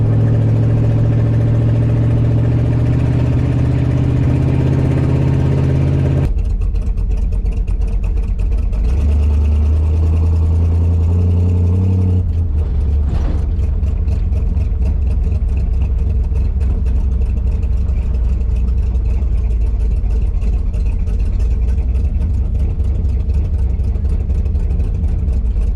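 A 1968 Dodge Charger R/T with a 727 transmission idles and revs through a very loud exhaust, deep and rumbling close by, shifting pitch partway through before settling into a steady heavy drone.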